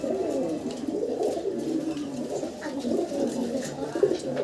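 A pair of large pigeons at a pigeon farm coo in a low, continuous rolling murmur that stays close and steady throughout.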